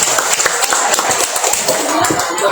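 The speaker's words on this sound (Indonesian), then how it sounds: "Monggo beri tepuk tangannya sekali lagi." An audience applauds at a thanksgiving night gathering for Indonesia's 80th Independence Day in Magelang, with dense, continuous clapping that stays loud throughout.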